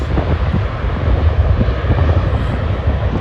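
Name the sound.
airplane at Schiphol airport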